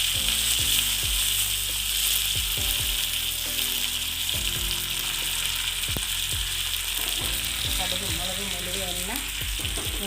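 Curry leaves crackle and sizzle loudly in hot oil in a frying pan while cooking Onam dishes such as pineapple pulissery and cabbage thoran, with dense continuous hiss and sharp spatter pops, no talking.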